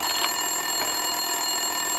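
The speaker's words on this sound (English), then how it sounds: "Winterson's phone was ringing" A desk telephone rings steadily in the video game Max Payne 2, a bright electronic trill running through the whole moment at moderate level over faint office ambience, with no talk.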